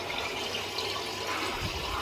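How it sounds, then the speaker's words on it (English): Tap water runs continuously into a sink during a wet shave, a steady close hiss and splash that holds at an even level with no voices. "You'll have to put up with the sound of running water."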